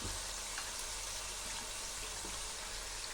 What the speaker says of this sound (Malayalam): ഈ വെള്ളത്തിൽ പറ്റുന്നിടം വരെ നമുക്ക് മൂപ്പിച്ചാൽ മതിയാകും